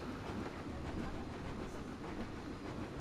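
Train rolling along its tracks in Planet Coaster, a continuous rumbling ride with faint rhythmic clatter, steady and moderately loud throughout with no voices over it.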